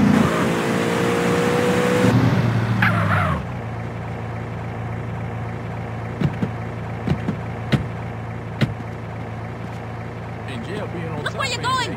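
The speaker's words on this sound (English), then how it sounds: "I don't drive as bad as CJ." A car driven in GTA San Andreas revs loudly at first, then settles to a steady engine drone with scattered sharp knocks and clicks, while voices speak over it.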